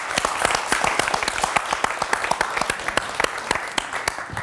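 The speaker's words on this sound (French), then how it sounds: "Charlotte, vous pouvez l'applaudir." A live audience applauds as a guest is invited on stage, a full, even burst of many hands clapping with crisp individual claps, steady throughout and close.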